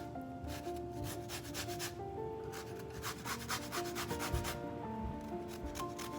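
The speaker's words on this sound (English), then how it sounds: "When you grate it, you want to make sure you don't take the white part of it, only the orange part." Orange peel is grated for zest in rapid, rhythmic scraping strokes, close and fairly soft, in short runs separated by brief pauses, with no talking.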